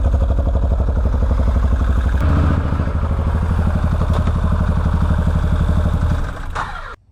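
A 2013 Can-Am Maverick side-by-side runs under load with a rattling, clattering clutch, a steady loud rumbling engine drone that holds for about six seconds before easing off near the end.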